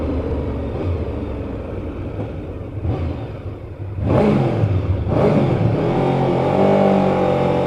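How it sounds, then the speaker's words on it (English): A 1989 Honda VFR750F motorcycle engine revs hard twice in an echoing tunnel, loud and close, with a steady engine drone between the bursts. "Let's do a little tunnel rev."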